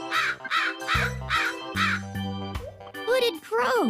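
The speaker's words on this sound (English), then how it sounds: "Hooded crow." Hooded crow caws several times in a steady series, near and loud, over a steady background music bed.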